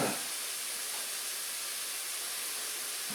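Ribeye cheesesteak meat cooking down in a pan, giving a steady, even sizzle and hiss that stays loud and constant throughout with no talking.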